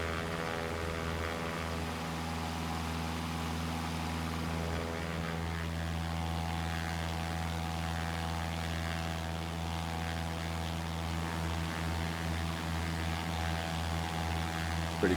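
Cessna 172 propeller engine in the flight simulator X-Plane 11, a steady droning hum with a strong low tone and buzzing harmonics, heard from outside the plane, holding constant throughout.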